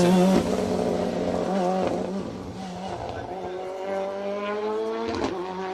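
A rally car races through an asphalt stage of the Jim Clark Rally 2024, its engine revving hard and shifting pitch as it passes close by, with a voice talking over it.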